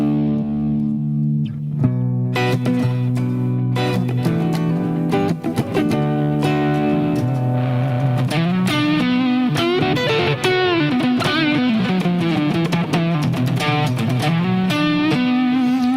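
A distorted electric guitar run through a Line 6 Helix processor plays a steady riff of picked notes and sliding bends, loud and continuous without a break.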